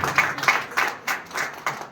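An audience claps in applause at a cultural event, with a dense, continuous patter of many hands and no voices over it.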